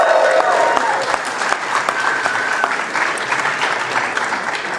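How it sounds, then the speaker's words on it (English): A crowd at the Secretary's Pride Month reception breaks into a round of applause, sustained, crisp hand claps from many guests filling the room at close range, with some voices and cheers mixed in throughout. "Can we give that a round of applause?"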